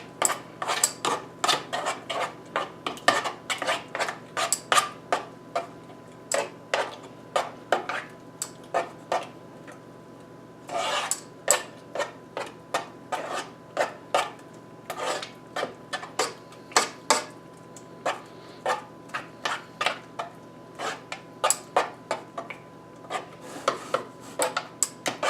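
A spoon stirs food in a pot on a stove, scraping and knocking in quick irregular strokes that repeat closely and steadily, with brief pauses between bursts.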